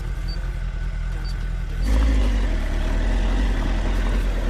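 A Suzuki GSR600 motorcycle runs steadily while being ridden, its engine droning loud and close, swelling louder partway through as it pulls harder.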